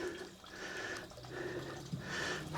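Small stream of water trickling along a little trench in the middle of a hiking trail in Natural Bridge State Resort Park, a faint steady gurgle and splash heard from nearby outdoors.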